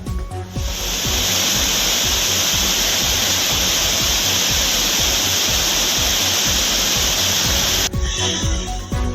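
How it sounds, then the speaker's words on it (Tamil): The Courtallam waterfalls, flooded after heavy rain, thunder with a loud, steady, close rushing roar of falling water that runs unbroken for several seconds. "தொடர் கனமழையால் குற்றால அருவிகளில் வெள்ளப்பெருக்கு ஏற்பட்டு"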